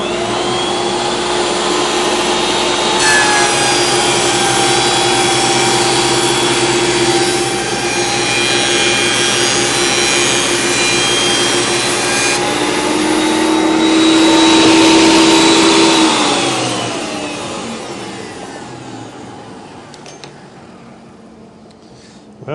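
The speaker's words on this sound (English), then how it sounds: "the real proof, of course, is in planing another board" A benchtop thickness planer feeds a wooden board through its cutter head with a loud, steady high-pitched motor whine, cutting harder near the end before winding down, close and continuous.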